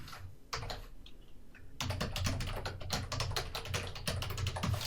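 Computer keyboard typing, a quick run of close, crisp key clicks that starts sparse and then turns into dense, rapid tapping with no talk.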